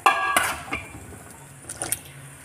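Water splashes into a pot of chickpea coconut curry, a short pour followed by faint drips and light clinks of a utensil against the pot.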